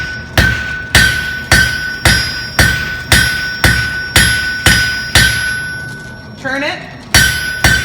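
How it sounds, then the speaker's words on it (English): A hammer pounds cherry-red steel flat on an anvil while forging a leaf shape, a steady series of about a dozen loud ringing metallic strikes, evenly spaced, with a short spoken remark between blows. "bring it back to the sweet spot of my anvil, and I'm going to pound it flat."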